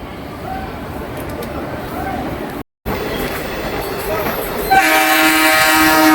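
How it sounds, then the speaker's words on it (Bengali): A passenger train on the Santragachi–Digha line pulls into Uluberia railway station in India, with loud continuous rumble and wheel noise close by, then a sustained horn blast near the end. "প্রবেশ করছে ট্রেন উলুবেড়িয়া রেল স্টেশনে।"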